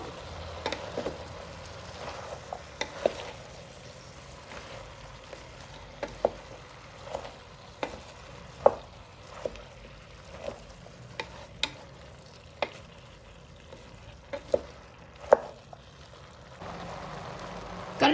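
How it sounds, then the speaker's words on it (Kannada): Bamboo shoots frying in oil with vegetables and legumes, stirred in a pan: a low, steady sizzle under repeated sharp scrapes and taps of the spoon, spaced irregularly about every second, close and fairly quiet. "ಈಗ ಕಳಲೆ ಹಾಕ್ತಾ ಇದ್ದೀನಿ ಕಳಲೆ ಕೂಡ ಚೆನ್ನಾಗಿ ಎಣ್ಣೆ ಫ್ರೈ ಮಾಡ್ಕೊಳ್ಬೇಕು"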